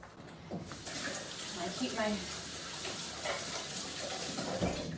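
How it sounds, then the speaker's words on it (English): Water gushes from a kitchen sink tap while hands are washed, a steady close splashing that starts after a brief quiet moment and keeps running throughout. "So I need to wash my hands quick."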